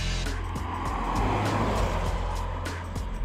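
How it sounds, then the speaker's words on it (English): A Renault Sandero's three-cylinder engine growls steadily under hard acceleration, a loud, continuous rumble with rhythmic low-end pulsing and no talking. "When you really thrash it, it makes a really hearty three-cylinder growl"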